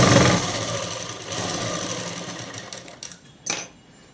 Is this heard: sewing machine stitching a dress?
yes